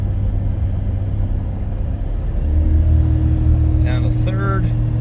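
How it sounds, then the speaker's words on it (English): A Ford Super Duty 7.3 Godzilla pickup towing a load rumbles along at highway speed, its engine note shifting as the transmission downshifts on its own. Someone talks over the steady drone. "See right there, gear down on its own, and it geared again"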